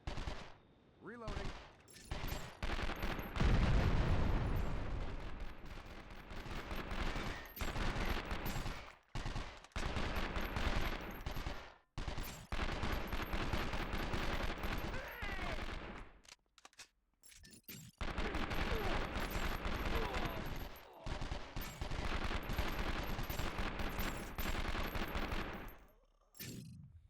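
Enemies fire at the player in the video game 24: The Game, with dense and sustained bursts of gunfire running through most of the stretch and brief pauses between volleys.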